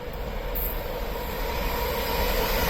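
An Avanti West Coast electric train passes through Crewe station on the West Coast Main Line, a steady loud rumble and rail roar throughout with a brief high squeal early on, no voices.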